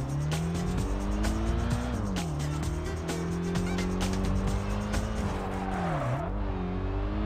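A turbocharged Ford Festa race car in a touge racing game revs hard through the gears, engine pitch rising and dipping through corners as tires squeal, loud and continuous with no voices.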